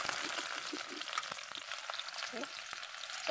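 Onion, green chillies and bay leaves fry in hot oil, a steady close crackling sizzle with scattered pops and a few soft stirring clinks throughout.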